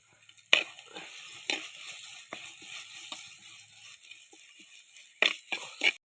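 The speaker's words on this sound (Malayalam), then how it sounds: "നല്ലോണം വഴറ്റിയെടുക്കുക. കുറച്ച് ഉപ്പും കൂടി ഇട്ട് കൊടുത്തിട്ടുണ്ട്." Onion and tomato with salt sautéing in a pan, a soft steady sizzle under a few sharp spoon scrapes and clinks against the metal, no voices.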